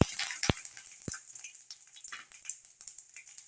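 Curry leaves frying in hot oil with mustard seeds and asafoetida, a soft crackling sizzle with two sharp pops near the start, steady and close with no talking.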